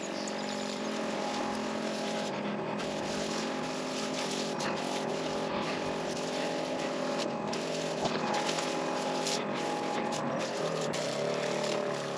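A Petra herbicide sprayer nearly out of mixture, spraying selective herbicide on a newly planted buffalo grass lawn, gives off a steady, continuous mechanical whine with a dense, even hiss throughout, close and fairly constant in level.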